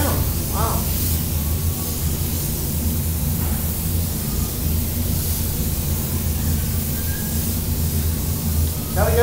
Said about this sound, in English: Low pressure spray.